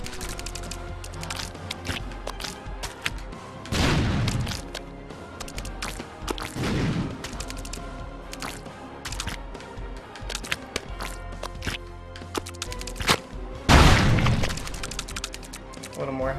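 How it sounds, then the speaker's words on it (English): Explosions boom in the platformer Super Meat Boy, with several loud bursts rising out of a busy stream of game music and crackling effects, while people talk over the gameplay. "he got hit by the aftermath of the explosion."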